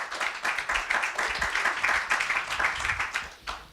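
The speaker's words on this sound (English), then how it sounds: "he deserves an applause" Audience applause in a university screening hall after a film on Neapolitan tailors: moderate, continuous clapping from a crowd, steady throughout and fading slightly at the end.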